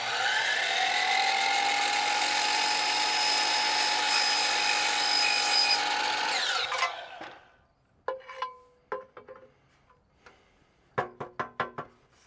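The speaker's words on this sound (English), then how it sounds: "Go out and get a non-ferrous metal cutting blade for your miter saw." A miter saw fitted with a non-ferrous metal-cutting blade slices through an aluminum-style rail in one long, loud, steady whine of about seven seconds, followed by a spindown and a series of sharp knocks and clatters as the cut pieces are handled.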